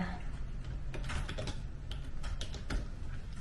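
Rapid, steady typing on a computer keyboard fills the room, an unbroken run of close key clicks with no talk.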